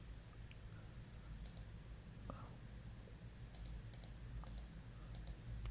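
Computer keyboard keys clicked in short scattered bursts while entering a station call sign into amateur radio logging software, faint and close over a steady low room hum.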